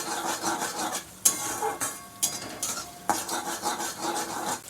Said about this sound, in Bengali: এবার আমি ডিমটাকে ভালো করে পেঁয়াজের সাথে ভেজে নেব।